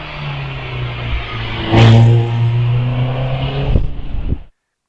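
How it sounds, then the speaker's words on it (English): A Caterham Road Sport races up a hillclimb course, its engine note climbing sharply and holding a loud rasp as it passes close, then fading with a few gear-change pops before cutting to silence. "Nash with the Caterham Road Sport out on the hill"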